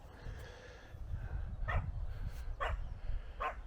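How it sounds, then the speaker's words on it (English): A small yappy dog gives three sharp barks spaced about a second apart, somewhat distant, outdoors in the Normandy countryside over low wind rumble. "That's a yappy dog."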